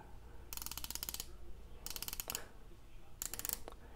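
Ratchet clicking from the bezel of a bronze Rado Captain Cook automatic watch, a firm 120-click bezel with no play, turned in three quick bursts of crisp, close clicks separated by short pauses.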